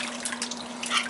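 Liquid poured over a baked ham, a steady close trickle and splash running throughout with a constant low hum beneath.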